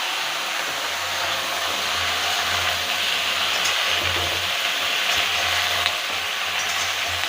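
Coarsely chopped onion fries in a pan for a Bengali village-style fish curry, giving a continuous, close sizzling hiss over a low steady hum.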